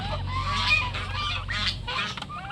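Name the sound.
young turkeys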